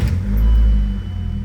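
A four-cylinder engine in a manual BMW Z3 runs with a steady low rumble that swells briefly then settles, loud and close, with no talking.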